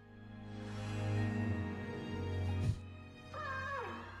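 A cat meowing in a video game, a single drawn-out meow near the end over a soft background musical drone.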